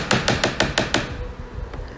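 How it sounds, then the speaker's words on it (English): Six firm knocks strike a large castle door in a quick, even series, loud and close, then give way to a quiet room. "Puss and Boots came at last to a castle and knocked boldly on the door."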